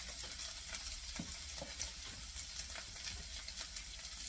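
Rice is added to sautéed vegetables in a hot pan while making vegetable fried rice, producing a steady, faint frying sizzle and hiss with occasional soft stirring scrapes.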